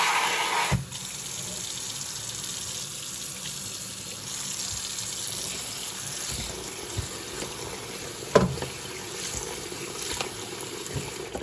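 Water runs steadily from a tap into a sink to soak dishes for several seconds, with a few faint clunks of dishes shifting underneath.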